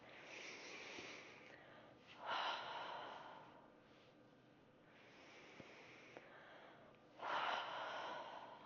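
Slow, deep breaths drawn in and let out during a calming mindfulness exercise, two fuller swells of air standing out among quieter, softer breathing, close and faint with no talk.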